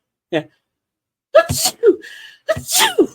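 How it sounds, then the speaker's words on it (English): A single loud, close sneeze bursts out after a short vocal sound, followed by a voice speaking. "I had to sneeze"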